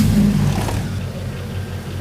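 The engine of a 2002 Chevrolet, running with an oxygen sensor fault, revs once, swelling to a loud, close roar and then easing back toward a steady hum.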